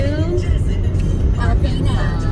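Car driving along a road on the way to Alpena, Arkansas, giving a steady low rumble of engine and tyre noise throughout, with faint voices underneath.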